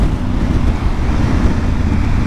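Loud, dense rush of wind buffeting the microphone while riding motorcycles such as an Africa Twin, TRK502X and KTM 1290 on winding roads, a continuous roar with engine rumble underneath and no talking.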